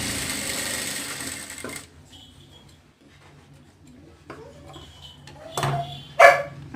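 Sewing machine running a quarter-inch stitch on canvas for a frock sleeve, a short burst of fast whirring stitching that stops abruptly, followed by quiet handling noises, a few faint clicks and a brief louder knock near the end.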